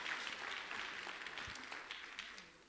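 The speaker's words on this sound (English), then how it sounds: "that deserves a round of applause" Applause at a church celebration honoring a pastor's 21 years in ministry, a steady wash of many hands clapping from a congregation that slowly tapers off.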